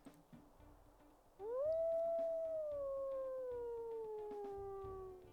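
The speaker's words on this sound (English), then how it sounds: "As for his howl," A wolf in the WolfQuest video game lets out a single long, high-pitched howl that rises quickly and then slowly slides downward, sustained for several seconds over faint background ambience.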